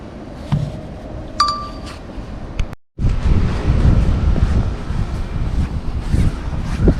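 Strong wind gusts roaring across an open outdoor site where a metal shed's concrete slab is about to be poured, with a few faint clinks early on, a brief dropout near three seconds, then steady buffeting noise.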